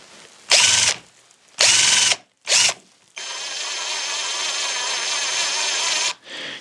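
A Kimo hammer drill whirs in three short high-pitched bursts, then runs steadily for about three seconds with a slight wobble and stops, close up and loud with no voices.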